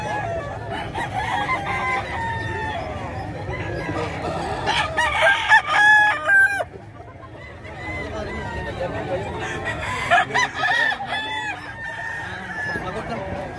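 Several large, mature gamecocks kept for fighting crow again and again at a poultry yard in Bocaue, Bulacan, with clucking between the loud, overlapping calls and people chatting in the background.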